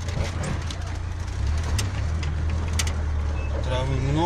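A car rumbles along an overgrown grassy track with no real road, its low engine drone steady and close throughout, with a brief voice near the end.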